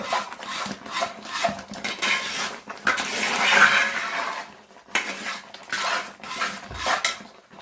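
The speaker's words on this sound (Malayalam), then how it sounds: "ചട്ടകം തന്നെ എടുത്ത് ഇതുപോലെ കൈ നീളമുള്ളൊരു ചട്ടകം കൊണ്ട് അല്പം മാറി നിന്ന് ഇളക്കി കൊടുക്കണം" A long-handled spatula stirs thick homemade herbal lehyam in a pot, with repeated scraping and rubbing strokes against the metal. The strokes come in bursts, loudest in the middle, with short pauses between them.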